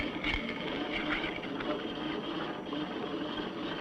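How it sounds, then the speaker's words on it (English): A steel ball rolls and spins in a dish driven as a rack and pinion motor by a travelling magnetic field, giving a continuous faint mechanical rattle and whir with small irregular clicks. "the steel ball will become a rack and pinion motor"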